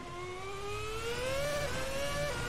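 A Formula 1 Ferrari in the Assetto Corsa racing game at Monza screams at full throttle, a high, steady engine whine climbing in pitch with a brief shift dip, loud and continuous with no talk.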